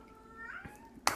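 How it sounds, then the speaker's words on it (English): A house cat gives a short meow partway through, fairly faint and close in a quiet indoor room, followed by a brief sharper sound near the end. "my cat's saying hi again."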